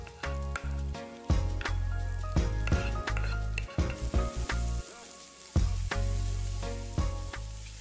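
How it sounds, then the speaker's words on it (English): Garlic and onions frying in a pan for lobster pasta, a loud, close sizzle broken by repeated sharp clanks and knocks of a utensil against the pan. "add our garlic as well as our onions, and just fry that for a few minutes."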